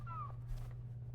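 A single short cat meow, a pet cat found after going missing, rising then falling, heard fairly close over a steady low hum, with no one talking.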